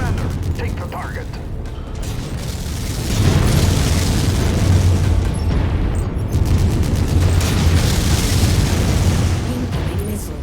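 Missiles explode in MechWarrior 5: Mercenaries, heavy booming blasts and mechanical clatter in a continuous loud barrage of combat noise, with a voice talking over it.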